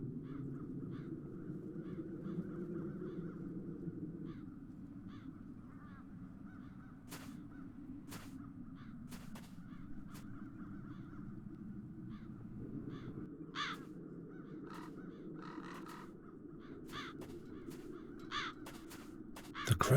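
Crows cawing in The Dark Eye: Chains of Satinav, scattered harsh caws at varying distances over a steady low town ambience, growing busier toward the end.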